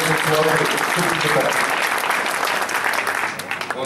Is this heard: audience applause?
yes